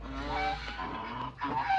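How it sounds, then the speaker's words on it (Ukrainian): Several Lindovskaya geese honk repeatedly and close by, their calls overlapping in a noisy cluster. "Це мої гуси"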